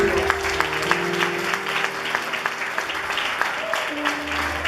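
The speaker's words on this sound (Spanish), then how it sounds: "denle un aplauso fuerte a Dios" Church congregation clapping steadily throughout a Sunday sermon service, a dense patter of many hands with a sustained organ or keyboard tone underneath.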